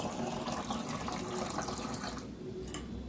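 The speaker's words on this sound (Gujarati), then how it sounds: "ફટાફટ આપણે પાણી ભરી લીધી" Tap water running steadily into a container at home, a continuous close splashing and gushing stream that thins out slightly near the end, with no talk over it.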